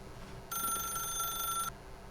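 Telephone ringing in the video game The Stanley Parable: a single electronic trill, about a second long, steady and fairly clear over a quiet background hum.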